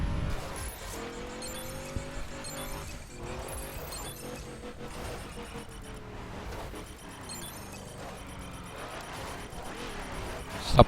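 A car in The Crew with its tires squealing and skidding as they heat up, engine revving through shifts beneath the sustained screech, steady and moderately loud with a sharp bump at the end.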